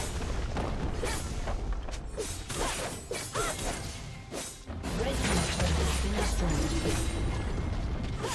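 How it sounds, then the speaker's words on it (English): Turret destruction in League of Legends: a loud, dense crashing boom with a swelling rumble and clattering debris that sustains for several seconds, game effects layered throughout. "Blue Team's turret has been destroyed."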